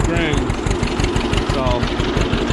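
A cold, older John Deere tractor engine runs at idle with a steady, loud, close low-frequency chugging throb, its regular pulses continuing throughout while a voice talks over it.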